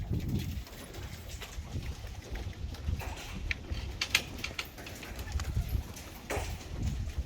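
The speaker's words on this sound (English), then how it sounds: "There's pigeons going everywhere." Pigeons coo and flutter nearby in a busy, shuffling wash of soft wingbeats and low calls, moderately faint, with no clear talking.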